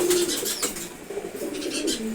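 Foreign-bloodline racing pigeons coo softly and steadily, low throaty calls repeating close by with light rustling and a faint wing flutter.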